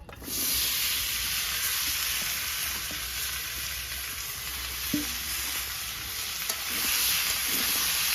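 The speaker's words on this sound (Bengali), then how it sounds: "এবার ডালের মিশ্রণটা আমি কড়াই দিয়ে দিব" A masoor dal and potato mixture hits the hot oil in a wok and fries with a loud, continuous close sizzle, with occasional stirring clinks and scrapes throughout.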